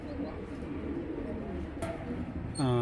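Two male Giribaz pigeons at a pigeon farm give low, rolling coos under a steady murmur of background noise, with a brief brighter chirp near the end.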